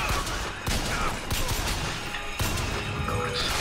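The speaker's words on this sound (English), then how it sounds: "Oh, you using a volley gun? You using a volley gun out there?" Dense, rapid gunfire and blasts from a volley gun in the video game Bioshock Infinite, with a loud, continuous burst of explosive shots across the whole stretch and little pause.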